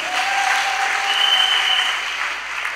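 A church congregation applauding in praise of the Lord at a French-language service, a steady wash of many clapping hands with faint whistles drifting above it, with no speech.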